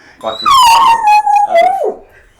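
A puppy in a TV commercial gives a loud drawn-out howling whine that slides downward, then a shorter yelp and whimper, close and clear over about two seconds.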